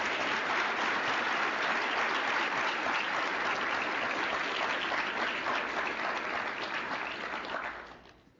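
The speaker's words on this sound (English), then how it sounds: "One more round of applause for Callie Jordan." Sustained applause from an audience at a white coat ceremony, steady dense clapping that holds evenly for several seconds before fading out at the end.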